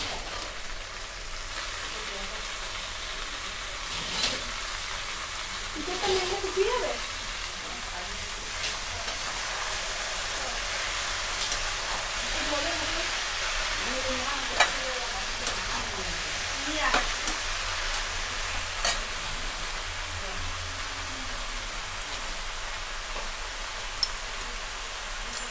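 Drained, washed, cut cabbage going into a hot pan and frying, a steady close sizzle with occasional stirring scrapes, and a voice talking faintly over it.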